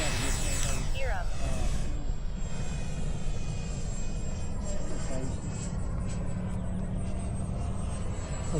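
A Habu XS model jet flies at Fritz Field, its turbine a steady, airy roar with a high whistle that swells and fades as it passes, holding throughout under distant speech.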